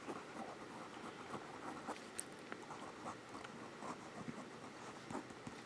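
Jinhao 100 Centennial fountain pen nib scratching across paper in a quiet room, a soft continuous scritch with small strokes and taps.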